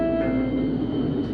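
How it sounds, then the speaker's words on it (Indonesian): KLIA Express nonstop airport train between KLIA and KL Sentral, a steady low rumble of the carriage in motion with a faint high whine, continuous and fairly close, no voices. "Kereta KLA Express yang dia tanpa nonstop, langsung dari KLA menuju ke KL Sentral"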